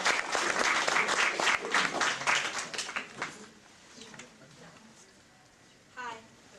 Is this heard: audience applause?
yes